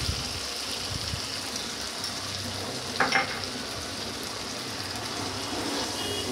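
Eggplant frying in a pan makes a steady, close sizzle under repeated stirring and scraping, with one brief brighter clatter midway.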